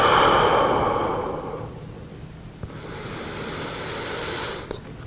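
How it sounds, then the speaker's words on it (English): Deep breathing in and out through the nose during a warm-up before mountain biking, a strong rushing inhale up front fading into a softer, quieter exhale, heard up close and without talk. "it's just breathing in through your nose, all as deep in as you can in through your nose, and then letting it out through your nose"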